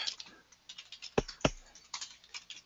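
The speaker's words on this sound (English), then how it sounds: "I'm actually typing it in here." Computer keyboard typing, a quiet run of soft key taps with two sharper, louder clacks near the middle, steady and close, alone without talk.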